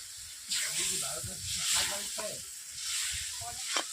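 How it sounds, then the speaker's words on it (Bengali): Spice masala with cinnamon sizzles in a kadai after a splash of water, as it is fried down for a village pond snail (googli) curry; a steady hiss swells and fades in waves, close by, with faint stirring and low voice sounds. "কষা মশলা দেখে তেল ছিটিয়ে যাচ্ছে"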